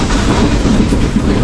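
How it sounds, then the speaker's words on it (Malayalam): Ooty toy train from the Nilgiri line straining as it hauls coaches along the rails, a loud steady rumble with rhythmic clickety-clack of wheels over the track, heard close from on board. "ആക്ച്വലി വണ്ടി നന്നായിട്ട് കഷ്ടപ്പെടുന്നുണ്ട് നമ്മളെ വലിച്ചോട്ട് വഴി പോകാനായിട്ട്"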